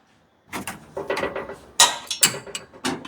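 Metal wrenches ratchet and clink against bolts while someone works on a car, a run of short mechanical clicks and clanks at close range with no talking.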